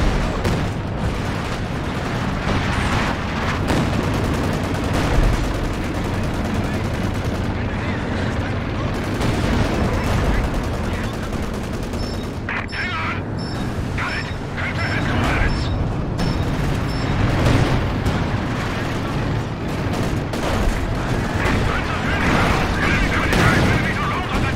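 Continuous battle gunfire in Company of Heroes 2 during a 4v4 match, with machine-gun bursts, heavy booms and artillery-like blasts layered densely throughout, with some in-game voices mixed in.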